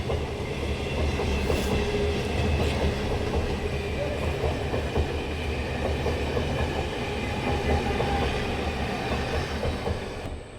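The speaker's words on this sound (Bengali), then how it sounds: "আজকে ট্রেনটা তোমাদের অনেক কাছ থেকে দেখাতে পাচ্ছি।" A train passes very close outside a home window, a loud, continuous heavy rumble with rhythmic wheel clatter that fills the whole stretch without letting up.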